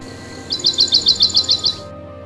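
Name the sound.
bird chirping in a tree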